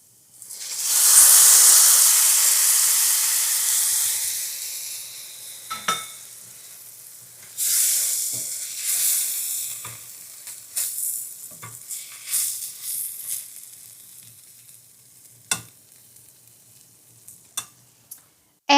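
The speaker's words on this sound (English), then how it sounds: "we're cooking the rice with the broth very slowly" Pumpkin risotto rice cooking slowly in broth over medium heat, with a loud sizzling hiss at first that eases into quieter bubbling and scattered scrapes and clinks of stirring in the pan.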